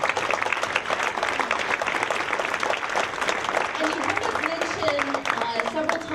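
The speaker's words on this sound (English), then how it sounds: "Let's give a round of applause to all." An audience at an evening Cherry Blossom Queen program in a cinema breaks into steady, dense applause, many hands clapping together at a constant level throughout, with some speech mixed in.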